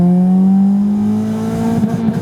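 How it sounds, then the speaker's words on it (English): Honda Civic engine revving hard into the rev limiter, a loud rising whine that stutters and bounces as the limiter cuts in near the end. "audio rev limiter that a lot of you have probably seen Honda owners use"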